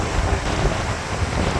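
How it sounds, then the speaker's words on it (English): Strong wind gusts by the River Dee at Llangollen, Wales, roar and buffet the microphone in a loud, rumbling rush that never lets up, with no one speaking. "Very, very windy."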